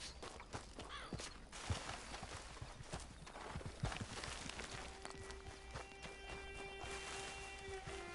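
Hooves of a horse in a PS4 video game clip-clop in a steady trotting rhythm, quiet and continuous, joined later by sustained game music tones.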